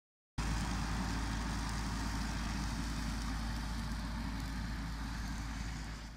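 A farm tractor tops grazing pasture, cutting the tops off the grass. The engine drones steadily with a low rumble and a mower-like hiss, close by and with no voices.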